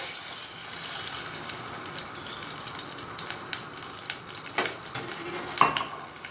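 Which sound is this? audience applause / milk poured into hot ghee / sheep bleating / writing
milk poured into hot ghee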